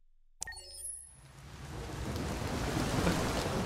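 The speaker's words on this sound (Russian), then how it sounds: "Опять дождь." Steady heavy rain in Detroit: Become Human builds to a dense, loud downpour, with thunder rumbling low beneath it after a sharp onset.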